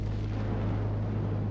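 A zirconium metal dust cloud explosion tears through a production building, heard as a loud, continuous low roar that fills the whole clip without a distinct onset.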